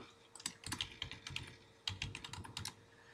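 Quiet, close typing on a computer keyboard, several quick bursts of key clicks with a short pause between them.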